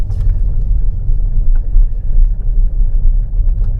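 A NIO Firefly small electric car rolls downhill on a mountain road, giving a loud, steady low rumble of tyres and road noise with no engine note and no voices.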